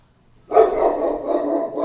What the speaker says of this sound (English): Pause this real quick. The dog's barking.